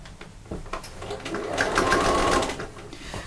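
A sewing machine running a second row of stitching along a sewing machine cover, a short, rapid mechanical hum that builds and holds for a couple of seconds before easing off, close and loud.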